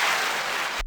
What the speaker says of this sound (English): 1 second applause